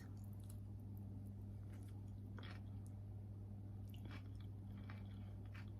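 A gourmet salad with warm dressing being bitten and chewed, soft crunching and squishing mouth sounds close up over a steady low hum, a few distinct bites spread across several seconds.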